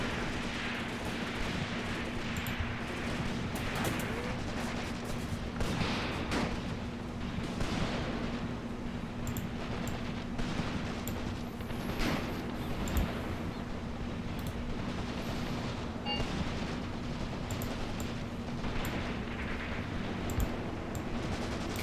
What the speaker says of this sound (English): There's some artillery.